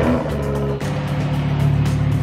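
Lamborghini Huracán Performante with a gold-finished engine runs loud and close, a deep steady engine note with a brief dip partway through, no talking over it.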